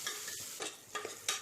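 Onions frying in a pan for Tamil-style mutton paya, with soft sizzling and a few brief stirring scrapes of a spoon against the pan, fairly quiet and close.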